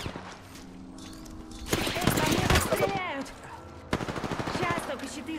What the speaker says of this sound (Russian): Меня стреляют!